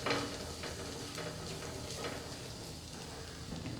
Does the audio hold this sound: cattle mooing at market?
no